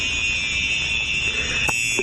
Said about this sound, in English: Fire alarm works.